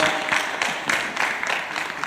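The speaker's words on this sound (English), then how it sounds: "Give a big round of applause." Audience applause at a medical practice-management conference, a dense steady wash of clapping from a crowd filling the room for about two seconds, with a faint voice underneath.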